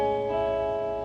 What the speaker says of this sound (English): And major 7th sounds like this.